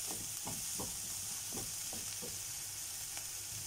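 Peppers and eggplant cooked without oil sizzle in a pan with a constant hiss, while a utensil stirs them in a quick run of scraping strokes.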